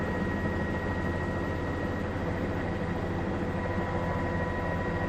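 News helicopter flying over Oklahoma, a steady, loud rotor and engine drone with a constant whine that holds unchanged from start to finish, with no voices.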